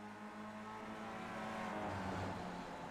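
Race car engine in a Rotax sim racing game at Okayama International Circuit, a steady loud engine drone with harmonic whine that eases slightly as the driver lifts off the throttle.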